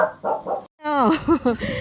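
Dogs at an animal shelter bark and whimper close by, a few short yaps followed by higher whining cries, mixed with nearby voices.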